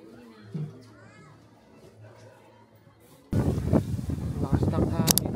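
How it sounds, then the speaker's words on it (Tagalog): Strong wind buffets the microphone outdoors near a tunnel in Yufuin, Japan, rumbling loudly in gusts after a quiet start, while children and people talk in the background. "Lakas ng hangin dito guys."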